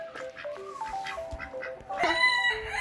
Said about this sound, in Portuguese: Esse é um galo sedoso